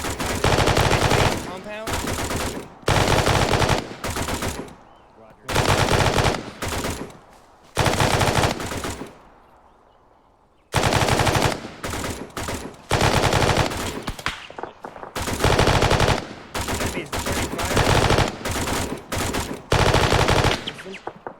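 Machine gun bursts fired at a compound during a defensive-position training exercise, loud and close, in repeated sustained volleys with short pauses between them and a brief spoken word in between.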